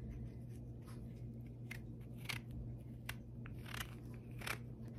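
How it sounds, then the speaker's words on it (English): A knife slices into a washed passion fruit, giving a few crisp, crunchy cuts through the tough rind, close and fairly quiet over a steady background hum. "we're just gonna cut right into it"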